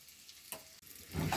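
Meatballs frying in a pan of quick soup with vegetables, the pan being shaken to stir them; quiet at first, then a louder rising sizzle and scrape near the end, with no talk.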